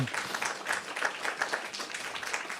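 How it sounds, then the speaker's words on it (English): A church congregation gives a round of applause during a service, a soft, brief patter of clapping heard at a distance and fairly faint throughout. "Let's give them a round of applause for amazing."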